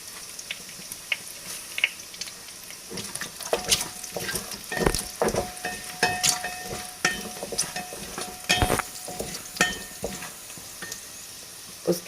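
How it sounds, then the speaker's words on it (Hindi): Spices sizzle in a pan for a Sindhi pakora curry, with irregular scrapes, clinks and crackles of stirring coming in bursts over a soft, steady frying hiss. "अब हम इसको लाइट फ्राई करेंगे।"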